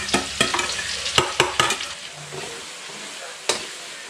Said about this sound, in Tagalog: Bigyan na natin guys yung sibuyas bawang